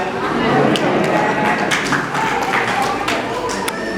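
A church congregation at a Christmas service claps hands together, a dense, steady patter of many hands filling the room with scattered sharper claps, while voices talk underneath.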